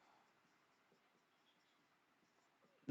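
Soft, faint scratching of writing on paper or a board continues steadily in a quiet room and ends with a sudden close knock.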